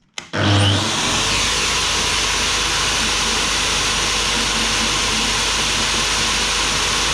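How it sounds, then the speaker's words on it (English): A polishing machine for round material grinding black scale off steel, which starts up abruptly and then holds a loud, steady roaring whine, close, no talking. "I've got this machine here that's for polishing round material"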